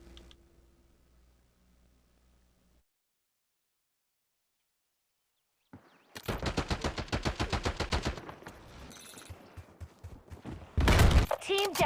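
Rapid bursts of gunfire in a team deathmatch video game, with loud, fast repeated shots, one dense volley after a long silence, then a further burst at the end, under game effects.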